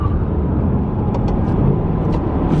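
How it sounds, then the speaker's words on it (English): A Mercedes AMG SLS braking hard into ABS, a loud steady roar of road and tyre noise with brief high chatter bursts throughout, no voices. "I will brake very hard into the ABS."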